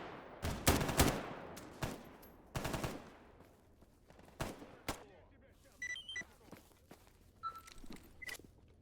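Gunfire from armour-piercing rounds in the S.T.A.L.K.E.R. GAMMA video game: a cluster of sharp, loud single shots early on, then sparser reports, footsteps and small handling clicks with faint chirps toward the end.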